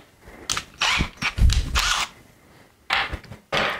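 Power drill boring 8 mm holes through a Fengsen dowel jig's guide bushings into wood for 30 mm dowels, heard as several loud, close bursts of whining, grinding drilling separated by short pauses, with no speech.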